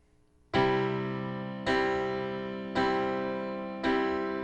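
Four piano chords struck one after another at an even pace, each ringing on and blending into the next as the sustain pedal holds them.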